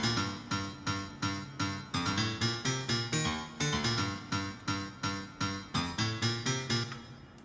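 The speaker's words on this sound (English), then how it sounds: "The last sound in the drop is the piano." Piano chords in a future house drop from a remake, struck in a steady, punchy rhythmic pattern with short repeated stabs filling the mix at close, loud level.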